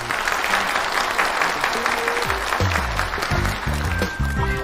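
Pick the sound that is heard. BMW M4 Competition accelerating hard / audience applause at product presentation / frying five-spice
audience applause at product presentation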